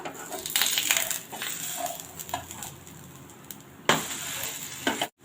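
An egg curry dosa sizzles and crackles on a hot pan as it is flipped, with scraping and tapping clicks from the spatula and a brief sharper clatter near the end, no voices.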